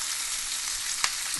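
Onions, lightly salted, fry in a pan as the base for a Goan king mackerel fish curry, giving a steady close hiss of sizzling with one brief stir-like tap.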